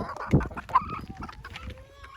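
Soft, scattered clucks and low murmuring from chickens close by eating a mix of bread, bulgur and rice, a couple of sharper notes standing out against quiet background.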